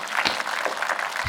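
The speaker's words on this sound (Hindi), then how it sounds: "एक बार दोनों हाथ उठाकर तालियों के साथ एक बार" Audience clapping at a Hindi kavi sammelan poetry recital, a broad wash of dense applause from a crowd, steady and moderately loud throughout without gaps.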